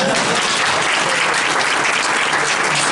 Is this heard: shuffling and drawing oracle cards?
no